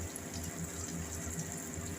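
Boiled ingredients pour into a pot of fried spices with a soft, continuous watery splash, faint and brief, with no talking.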